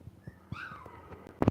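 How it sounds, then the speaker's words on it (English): A puppy yelps and whimpers in a quick run of short, high cries, faint at first and then louder with a sharp closing yelp, with no one speaking. "Now I hear a puppy yelping and carrying on right now"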